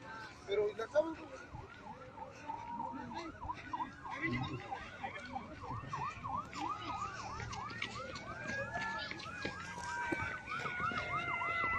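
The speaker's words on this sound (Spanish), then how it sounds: "Se escuchan ambulancias, se escuchan sirenas." Ambulance and emergency vehicle sirens wail at a pipeline explosion in Hidalgo, Mexico, several overlapping wailing sirens rising and falling at a distance, growing louder over traffic rumble and background voices.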